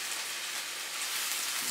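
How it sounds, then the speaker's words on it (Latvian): Chopped onion sizzling in a hot frying pan, a steady, dense crackling hiss that stays even throughout, close by, with no talk. "Tagad liekam sīpolu uz mūsu uzkāršušās pannas"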